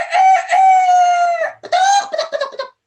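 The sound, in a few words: rooster crowing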